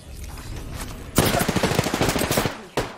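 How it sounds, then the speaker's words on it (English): Rapid automatic gunfire in the game Apex Legends crackles loudly in a dense burst lasting over a second, followed by a single sharp shot after a short pause, with quieter in-game sounds before the burst. "There's a person who's shooting at us."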